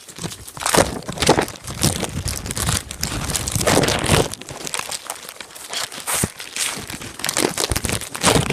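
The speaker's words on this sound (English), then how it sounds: "I'm going to be putting my iPad in a plastic bag." Plastic bag crinkles and rustles loudly up close as an iPad is slipped inside, irregular crackling bursts and scrunches continuing throughout without speech.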